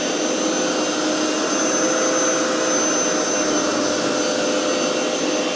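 A Hoover PowerScrub XL Pet Plus carpet cleaner runs continuously on carpet, giving a steady, loud motor whine and suction hiss with no pauses or voices.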